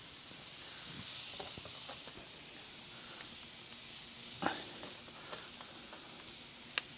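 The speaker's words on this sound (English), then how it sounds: "we'll let this sear just as you see it" Salmon sears skin side down on a wood-fired grill in a steady close hiss and sizzle, with scattered small pops and crackles and no talk.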